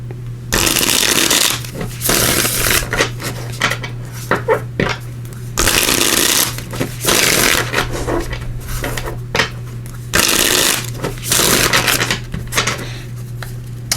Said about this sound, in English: I'm gonna shuffle these, and we're gonna pull from these everyday tarot here